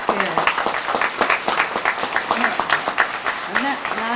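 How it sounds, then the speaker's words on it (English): An elementary school audience claps for their teachers at a Red Ribbon Week assembly, a dense, lively round of applause with voices mixed in over it. "Are you applauding because of your teachers?"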